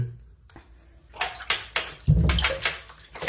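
Water splashes and runs in a video-game shower, with irregular sloshing bursts and a low gush, fairly close and steady through the short stretch.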